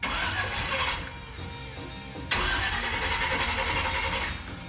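A car's new starter motor, fitted along with a new automatic transmission, cranks with a buzzing whir that stops abruptly, then a louder burst of cranking follows and runs steadily to the end, close-up in a workshop with no speech.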